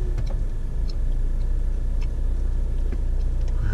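A 2013 Kia Rio EX engine idles steadily at low volume, a continuous low rumble with faint ticking clicks on top and no talking.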